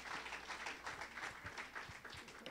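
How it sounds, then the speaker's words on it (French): A retrospective-show audience applauds for a guest, giving a modest, continuous patter of many hands clapping at moderate distance, fairly faint and even throughout. "Alors, on peut l'applaudir."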